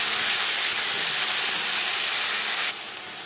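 Ginger and chili paste sizzles in hot oil in a pan for a vegetarian khichuri, a loud, steady, close hissing fry that drops to a softer sizzle near the end, with no talk.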